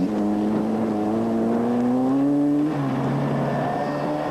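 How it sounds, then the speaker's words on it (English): A Class B Opel-powered Sandmaster off-road race car drones past at a steady pitch that climbs, then drops abruptly, heard from moderate distance in cold, wet weather with no talk. "the Class B Opel-powered Sandmaster"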